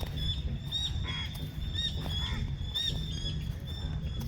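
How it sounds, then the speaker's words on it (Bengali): Birds call repeatedly in a coastal forest beside a beach at Sagarika, Chattogram, with bright chirps recurring throughout over a steady rumble of surf and wind. "পাখির ডাক শুনছেন?"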